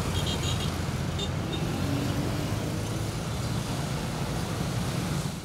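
Motorcycles and cars on a road in Benin make a dense, steady traffic roar, engines droning close by with a constant rumble and no clear pauses.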